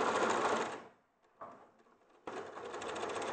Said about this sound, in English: I'm going to sew straight back down the other way.